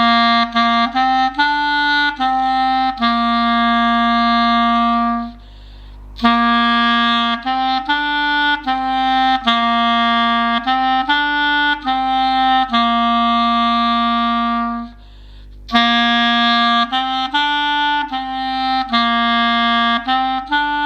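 A clarinet plays an elementary dotted crotchet exercise, clear, close tones in steady phrases with two brief pauses between lines, played alone.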